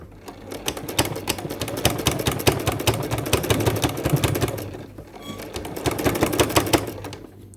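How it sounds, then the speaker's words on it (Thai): A sewing machine stitches a curved waistband in two close, rapid bursts of rhythmic needle clatter separated by a brief pause. "เข้าแบบนี้เรียกว่าเข้าอมนะคะ แล้วก็เย็บเป็นเส้นเดียว"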